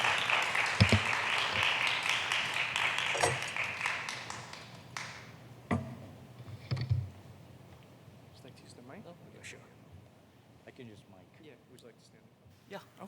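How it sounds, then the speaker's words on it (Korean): A church congregation bursts into loud applause welcoming a speaker, gradually thinning and fading, leaving scattered claps and murmuring voices. "우리 교수님 나오실 때 큰 박수로 환영할까요?"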